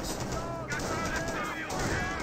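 MG42 machine gun fire in the World War II strategy game Company of Heroes, a steady dense rattle with scattered pops, continuous and fairly loud under a talking voice.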